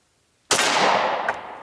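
A single gunshot heard through Soundgear Phantom in-ear digital hearing protection, an abrupt loud crack after brief silence with a compressed decaying tail and a smaller second pop about a second later.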